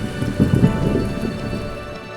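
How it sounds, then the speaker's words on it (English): An intense mountain storm in Wyoming's Wind River Range brings a steady close hiss of rain with low rumbling thunder swelling under it, and no voices. "That night brought one of the most intense storms I've ever seen, complete with several inches of fresh snow."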